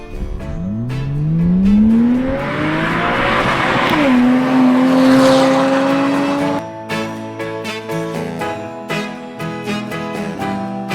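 A Porsche Cayman 987 with a Top Gear valved exhaust revs hard and loud, climbing through the gears with a rising engine note before settling into a steady drone, then backing off into crackles and pops on the overrun.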